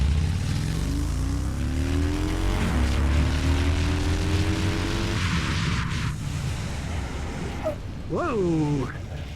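A Harley-Davidson Road King motorcycle roars as it launches, its engine rising and shifting through gears up close. Wind noise follows, then the engine drops sharply as it brakes to a stop.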